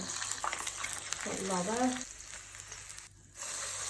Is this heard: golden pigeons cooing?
no